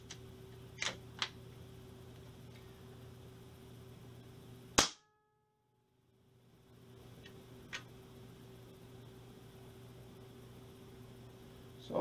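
AEA 357 Challenger air rifle firing, one sharp loud crack standing out against a steady background hum, followed by a brief drop to near silence, with a few smaller clicks before and after.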